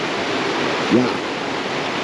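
A swirling alpine river rushes in a steady, dense roar, loud and close, with a brief voice cutting in midway.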